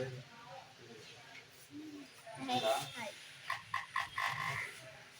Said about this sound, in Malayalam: തവള